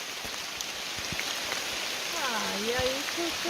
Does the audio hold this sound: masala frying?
no